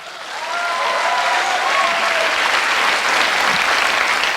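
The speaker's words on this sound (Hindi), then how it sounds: "इस पर तालियां बजाओ।" An audience breaks into loud applause that swells within the first half second, then holds as a dense, sustained roar of clapping hands.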